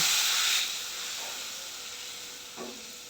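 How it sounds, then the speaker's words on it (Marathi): A sharp burst of hissing sizzle as water that was used to rinse a mixer jar is poured into hot spiced-oil tempering, quickly fading into a softer, steady hiss, with no voices. "मिक्सर धुतलेलं पाणी मी फोडणीत घालते आहे"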